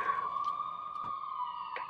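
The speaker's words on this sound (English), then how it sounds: "which is police sirens" Police sirens mixed into a recording of a song hold a steady wailing tone that stays loud and sustained through the whole stretch, with faint clicks over it and no voices.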